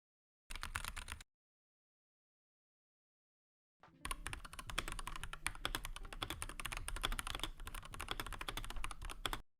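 Clicky mechanical keyboard being typed on up close, a brief burst of keystrokes, a pause of silence, then a long steady run of crisp rapid clicks with no talking.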